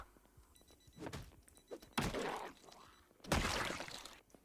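A zombie in Project Zomboid bangs on a door, several heavy, separated thuds and rattling knocks spaced a second or so apart, fairly quiet overall.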